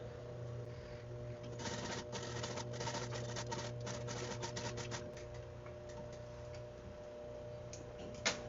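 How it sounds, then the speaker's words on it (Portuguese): Domestic sewing machine topstitching the inside of a bikini top's base, running in a steady, quiet, rapid ticking rhythm with short pauses between bursts, close and alone. "E agora eu vou vir com um pesponto desse lado de dentro."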